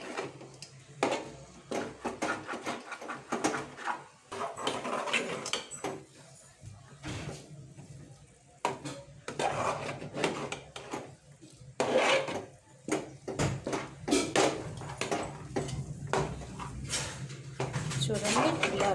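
A spoon scrapes and knocks rhythmically against a pot while stirring thick chandrakantalu lentil batter, repeated close scraping strokes under someone speaking.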